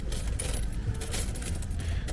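Old coins from a coin album at a German flea market are handled close by, giving a dense run of metallic clinks and jingles with no talk.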